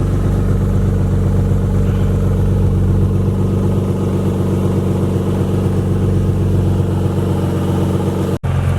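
A Nissan 350Z fitted with a new, fairly quiet exhaust runs steadily near the microphone, its loud low engine drone holding throughout with small blips of revving and a brief dropout near the end.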